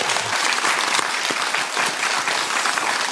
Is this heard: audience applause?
yes